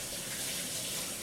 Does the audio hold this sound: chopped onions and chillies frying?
no